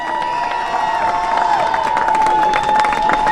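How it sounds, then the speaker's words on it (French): Outdoor festival crowd in a town square cheering and clapping for the decorations team at a mask competition ceremony, a steady dense roar with shouts and whistles lasting throughout, loud and close. "On les applaudit."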